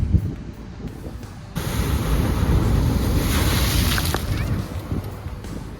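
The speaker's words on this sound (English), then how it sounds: "the waves are crushing it pretty hard" Ocean waves crash against the Apollo Bay break wall, a broad roaring wash that surges loudly after a quieter start, mixed with heavy wind buffeting on the microphone and no clear talk.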